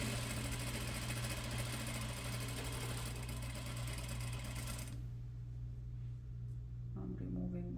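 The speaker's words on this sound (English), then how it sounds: "I'm removing my pins as I go, aligning my edges, and I'm sewing, manipulating my fabric" A sewing machine runs steadily, stitching a fabric seam for an inseam pocket, with a dense continuous whir that cuts off abruptly partway through, followed by faint handling noises.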